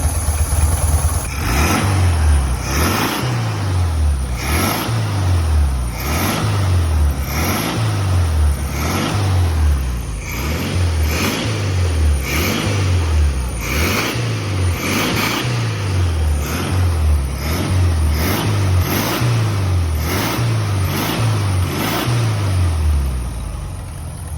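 A 1967 VW Beetle air-cooled engine runs close by and revs repeatedly in a steady rhythm, each rise and fall of the throttle loud and regular throughout.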